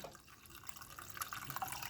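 Water trickles and splashes softly into a pan while preparing ceremonial cacao, a brief, quiet pour with light dripping toward the end.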